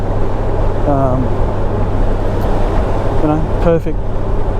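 A 2021 Honda Goldwing touring motorcycle cruising at about 95 km/h on the road, its engine humming in a steady low drone with wind rush, while a rider talks over it.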